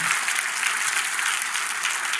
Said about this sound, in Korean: Let's give a round of applause for Jesus.